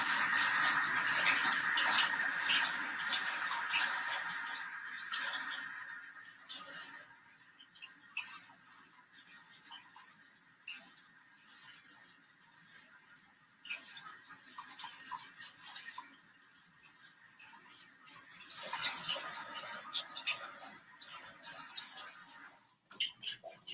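A tap runs water, likely for rinsing pipe ash off hands, with a steady splashing gush that is loudest at first, then thins to softer trickling and dripping with occasional bumps.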